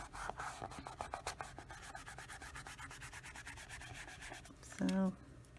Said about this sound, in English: sometimes burnishing it with your finger will blend all the